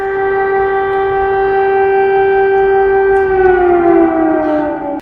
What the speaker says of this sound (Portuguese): O som da sirene que alertava a população para o risco de novos ataques podia ser ouvido em toda